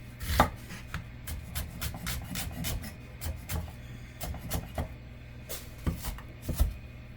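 Knife chopping vegetables on a cutting board for a dinner dish, a brisk run of sharp, irregular taps close up, loudest near the start and end.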